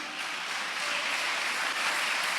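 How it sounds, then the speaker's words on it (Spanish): A church congregation claps steadily and densely throughout, a sustained wash of many hands at moderate distance with no talking over it. "Dele un aplauso al Señor."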